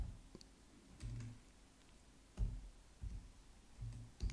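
Keyboard typing in short bursts of soft clicks and taps, fairly close, with pauses between flurries and no talking.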